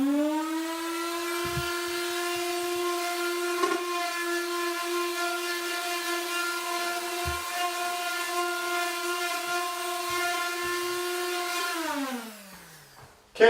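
Electric sander running on closet walls before priming, a steady droning whir with a constant pitch, a few faint knocks underneath, winding down and stopping near the end.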